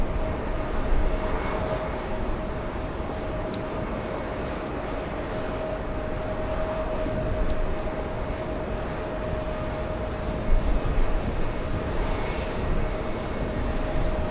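A Singapore Airlines Airbus A350-900 ULR airliner on final approach, heard as a steady, broad jet roar that holds at a fairly even level throughout, with no voices.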